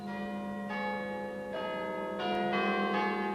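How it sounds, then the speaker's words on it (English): Church bells peal for the Armistice, overlapping strikes layering into a steady, resonant ring that swells slightly louder toward the end, with no voices. "while the Armistice bells rang out"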